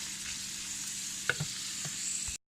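Keto stroganoff cooking down in a pan, a steady close sizzle and bubbling with a few soft stirring knocks, heard alone until it cuts off abruptly.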